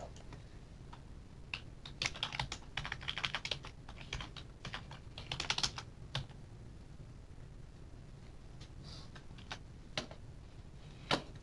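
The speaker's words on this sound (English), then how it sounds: "What if I type in a decimal value?" A decimal value is typed on a computer keyboard, producing faint, quick clicking keystrokes in irregular bursts, denser in the first half, over a quiet room background.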